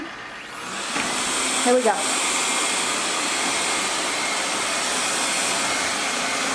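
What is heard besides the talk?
CISNO robot vacuum cleaner starting to run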